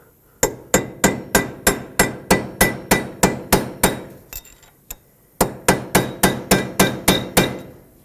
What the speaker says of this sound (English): I'm just going to punch a little slot into it right here.